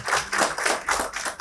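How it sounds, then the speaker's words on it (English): A brief burst of audience clapping for a panelist at a business panel event, a handful of irregular hand claps that are moderately near and uneven rather than a full ovation. "Huge round of applause for sir."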